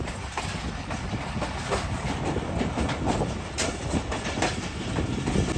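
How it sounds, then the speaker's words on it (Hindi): The Bolan Mail passenger train runs on rails in the morning, a continuous loud rumble with rhythmic clickety-clack of wheels over rail joints, heard from on board. "8:52 पर हमारी ट्रेन पहुंच रही है खानौट रेलवे स्टेशन पर"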